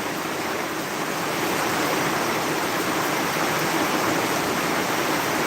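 Heavy rain pours down in a dense, constant roar of hiss and splatter, loud and unbroken throughout with no voices.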